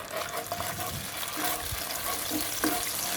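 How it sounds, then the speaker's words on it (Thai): Soybean paste frying in a little oil in a pan, steady sizzling with soft scraping and stirring sounds over a constant crackling hiss. "ใส่น้ำมันลงไปเล็กน้อย แล้วก็ตามด้วยเต้าเจี้ยวลงไปผัดเลยครับ"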